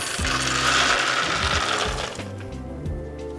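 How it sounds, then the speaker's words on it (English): Two cups of peanuts clatter and rattle into a blender in a loud, busy cascade that thins out toward the end, with a few scattered knocks after the pour. "So we just put the 2 cups of peanuts in the blender"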